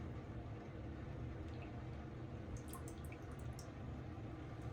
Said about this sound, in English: I'm just gonna face dunk her into the water